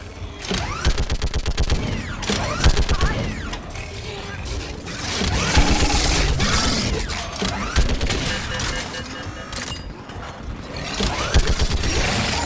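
Video game battle gunfire clatters in rapid, mechanical bursts, dense rattling volleys with short gaps, loud and close throughout, mixed with clanking action sounds.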